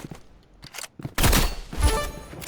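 Burst-fire rifle gunfire in the Roblox game Rivals comes as a dense, loud close volley of rapid shots lasting over a second, after a few lighter clicks and handling sounds.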